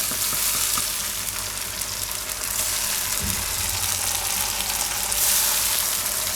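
Garlic and green chilies hitting hot oil with onions for a Gujarati palak urad dal, giving a loud, steady sizzle and crackle throughout with a brief stirring clatter near the middle.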